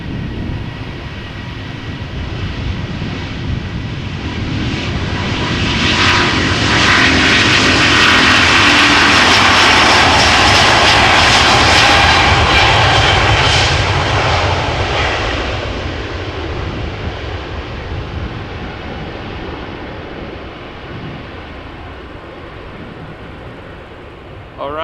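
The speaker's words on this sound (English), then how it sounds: "Delta Airlines Flight 75, Airbus A350-900 going to Atlanta" A Delta Air Lines Airbus A350-900 jet takes off at Amsterdam Schiphol, its powerful roar swelling to a loud peak and then slowly fading as it climbs away, with faint talk in the background.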